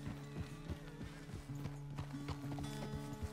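A horse clip-clops along in Red Dead Redemption 2, steady hoof beats at a walking pace under a low musical drone, fairly quiet with no talk.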